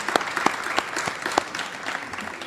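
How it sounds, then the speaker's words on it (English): Audience applause at a climate conference, a steady wash of many hands clapping at moderate distance with a few sharper claps standing out, fading slightly toward the end. "Can we give him a round of applause for what he's done?"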